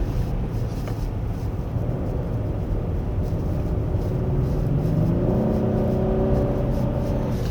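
A 2024 Genesis G80 3.5 turbo AWD engine hums low inside the cabin, then rises in pitch as it accelerates, a steady revving drone building toward the end.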